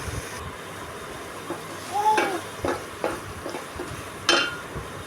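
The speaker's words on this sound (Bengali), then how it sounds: "ভালো করে কষিয়ে নিতে হবে এবং নেড়ে দিতে হবে" Spiced ridge gourd and shrimp are sautéed in a pan, giving a steady low hiss broken by several distinct spatula scrapes and stirring clatters spaced a second or so apart.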